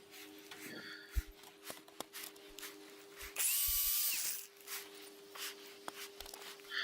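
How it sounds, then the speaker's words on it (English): Electric drill boring through a concrete paver block, a loud whining burst of about a second amid scattered knocks and handling clatter, with quieter intermittent tool noise around it. "I can drill the hole all the way through by drilling from both sides"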